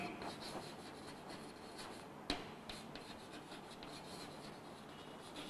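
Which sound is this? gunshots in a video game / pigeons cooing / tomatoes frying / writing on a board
writing on a board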